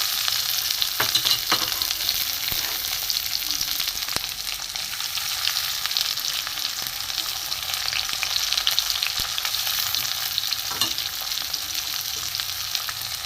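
Chopped onion and tomato fry steadily in hot oil in a pan for a fish egg curry, a continuous close sizzle with occasional stirring scrapes and no voices.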